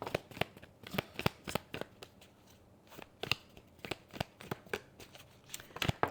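Tarot cards are shuffled by hand close by, a steady series of crisp riffling snaps and flutters repeating irregularly, fairly quiet, with no talk.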